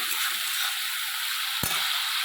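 Spice paste with chili powder frying and being stirred in a pan, a dense, loud hiss of sizzling with a couple of sharp knocks of the spoon against the pan, no voices.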